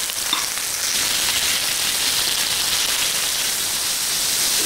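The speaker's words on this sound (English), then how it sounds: "Now we're going to cook the pork for 1 minute" Pork sizzles steadily in a hot pan with softened onion, a dense, even, close frying hiss that continues without pause.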